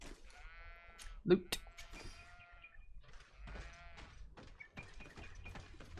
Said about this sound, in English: Here's sheep coming from the wall.